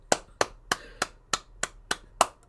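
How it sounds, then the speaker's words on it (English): Hands clap in a steady rhythm, nine sharp, close claps spaced about a third of a second apart with no talking over them. "I'm clapping. I'm clapping."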